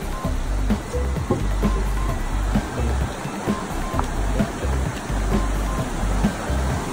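Strong river current rushing steadily outdoors on a nature trip, a continuous loud broadband wash of water with no pause, some low rumble underneath.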